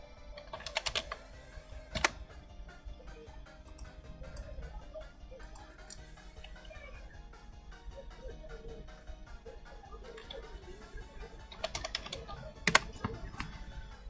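Quiet clicking on a computer keyboard during a livestream setup, scattered soft keystrokes with a couple of louder bursts near the start and toward the end, faint and close.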